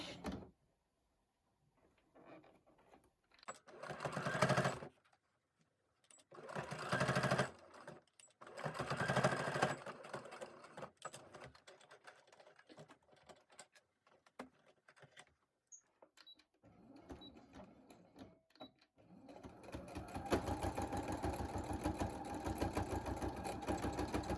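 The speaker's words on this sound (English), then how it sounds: "And then we're ready to sew at the edge by here. Don't forget to back stitch." Domestic sewing machine stitching along the edge of a fabric face mask, with short bursts of motor whirring separated by pauses and handling clicks, then a longer, steadier run of stitching at the end.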